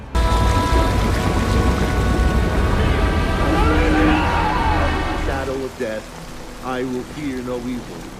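Heavy night rain in an action film pours as a loud, dense downpour, then eases after about five seconds as a voice begins speaking over the softer rain.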